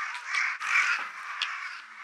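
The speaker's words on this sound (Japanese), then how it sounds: "カラスが多いな。" Crows caw around Hikone Castle in the late afternoon, with harsh, overlapping calls repeating at moderate distance over a quiet background.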